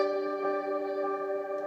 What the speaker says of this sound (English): there's the reverb.